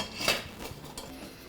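A spoon scrapes and clinks in a bowl as cream sauce with oregano is mixed, giving one sharp clatter followed by several softer scraping strokes, close by and without talk.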